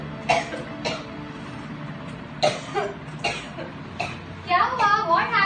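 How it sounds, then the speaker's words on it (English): Several harsh coughs in irregular bursts, close by, followed by a rougher throat-clearing fit near the end. "why are you coughing so much now?"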